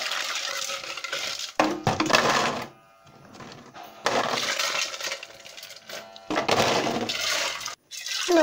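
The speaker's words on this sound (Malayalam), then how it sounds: "ഐസ് എടുത്തിട്ട് അതിൻ്റെ ഉള്ളിലേക്ക് പതുക്കെ പതുക്കെ ഇടുക" Ice cubes are dropped into a container for a homemade mini cooler, with bright clinking, clattering bursts separated by short pauses, close and fairly loud.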